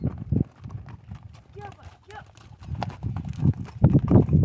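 Horse hooves clip-clopping in a steady, fairly close rhythm on an outdoor outing, with people talking over and around the steps.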